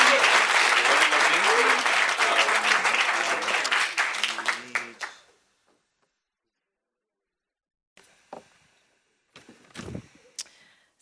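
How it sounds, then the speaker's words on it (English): Dense applause from an audience at a London coding bootcamp demo day, greeting a presenting team; loud and steady for about five seconds, then fading out, leaving near silence with a few faint scattered noises. "a big round of applause for them."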